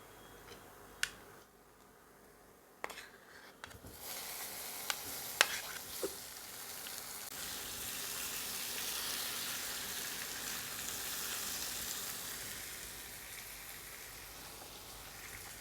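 Boiled, cut taro pieces go into a hot pan for a vegetarian pickle-style dish and fry with a steady, soft sizzle. A few sharp clacks of the pieces dropping in come first, then an even hiss that builds slightly.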